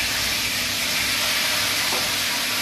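Spice masala with dried red chilli, chopped green chilli and turmeric frying in oil as it is stirred, giving a dense, steady, close sizzling hiss with no talking.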